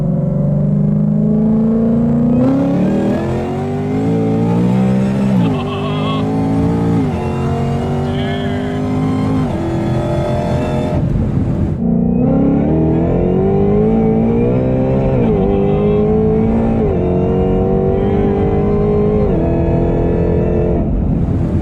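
A 1100 hp Shelby GT500 on its stock engine revving hard and loud toward 8800 rpm, climbing through repeated gear pulls with a brief drop before climbing again, recorded close with no talk.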